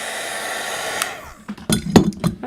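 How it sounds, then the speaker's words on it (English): A heat gun blowing steadily to dry Distress Crackle Paint, then cutting off and followed by a few sharp clinks and taps of handling nearby. "let's go ahead and hit this with the heat gun one more time"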